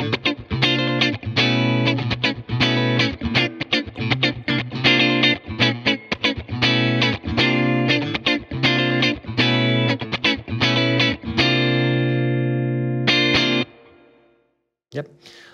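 Electric guitar played through a Fender Compugilist compressor effects pedal, loud and close, with rhythmic strummed chords and ringing sustained notes before fading out near the end.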